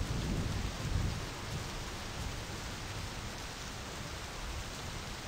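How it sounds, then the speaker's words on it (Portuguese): Heavy rain pouring steadily in the video game My Summer Car, a dense continuous hiss with low rumbling, loudest in the first second and then even, with no talk. "Cara, chuva forte."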